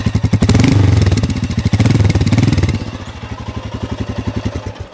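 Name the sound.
Royal Enfield Scram 411 single-cylinder motorcycle exhaust note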